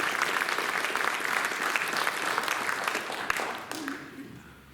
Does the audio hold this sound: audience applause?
yes